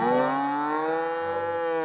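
A cow lets out one long, steady moo, close and full, holding its low drawn-out tone for the whole stretch with nothing else heard.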